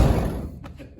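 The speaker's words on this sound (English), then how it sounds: "the doors open and close beautifully now" The door of a 1970 Dodge Dart Swinger swings shut with a solid low thud, followed by a couple of light latch clicks, close by.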